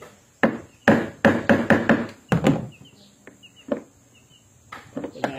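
Hammer blows on a chisel while removing the gearbox of an Orofan washing machine: a rapid burst of sharp metallic knocks, close and loud, then a few scattered taps with quiet pauses, no speech.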